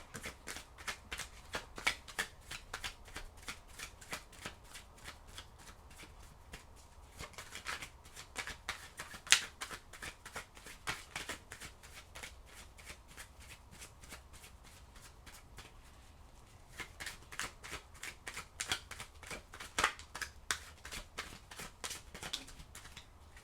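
Oracle cards are shuffled by hand in steady bursts of crisp riffling clicks, fading briefly around the middle and then resuming, close and fairly quiet with no talking.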